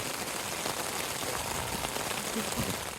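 Steady, even hiss of heavy pouring rain falling on a tent and surroundings, continuous and fairly quiet, with no voices.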